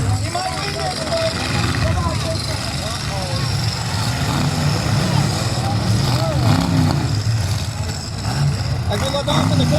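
Demolition derby cars rumble and rev continuously at a North Battleford heat, with engine drone and scattered knocks beneath an announcer and crowd babble throughout.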